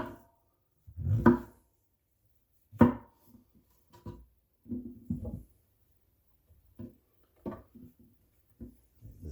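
A knife cuts through homegrown mushrooms on a board, producing a handful of quiet, separate slicing thuds with pauses between them.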